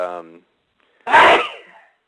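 A short voiced sound fades out, then after a pause a single loud, explosive sneeze bursts out close by.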